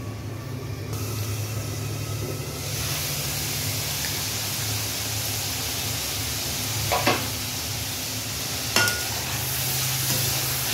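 Spice paste is sautéed in a pan with taro stolons and shrimp, a steady close sizzle with occasional sharp stirring scrapes and no voices.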